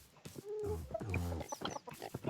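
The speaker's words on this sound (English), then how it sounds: "Wait for these chickens to come through." Chickens in Minecraft cluck in short, close bursts, a few quick pitched clucks overlapping over a couple of seconds without any talking.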